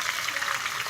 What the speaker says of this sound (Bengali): তার সাথে শুকনো মরিচ দিয়ে একটু ভেজে নিচ্ছি।